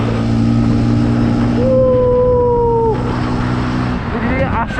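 Vintage 1976 Vespa Super scooter engine running steadily while riding in third gear, a smooth continuous low drone with a brief whistling tone over it, close and fairly loud.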